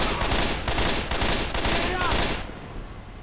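Rapid bursts of gunfire in the zombie shooter Left 4 Dead, repeated shots in quick clusters over the first couple of seconds, then easing off into a quieter background.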